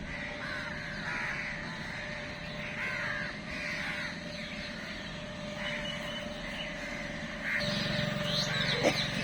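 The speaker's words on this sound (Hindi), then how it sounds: "कौवे लोग भी भाई सुबह में भ्रमण के लिए आते हैं" Crows caw repeatedly at about 5:15 in the morning on a riverside ghat by the Ganges, the calls spaced out and moderately near over a steady low hum and distant ambient noise.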